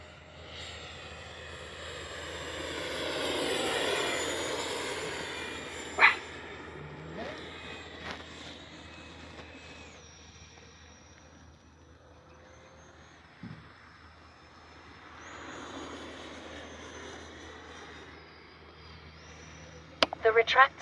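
A Freewing A-4 Skyhawk 80mm electric ducted-fan RC jet passes overhead in the distance, its whine swelling and fading in long sweeps over an outdoor airfield, with a few brief clicks and knocks.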